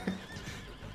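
A horse gives a short, loud whinny at the very start, then the sound fades into a rough, low rumble of movement for the rest of the second.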